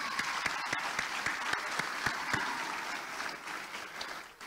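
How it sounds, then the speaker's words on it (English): A crowd applauds, many hands clapping in a steady patter with a few louder claps standing out, fading slightly at the end. "Let's give everybody a round of applause."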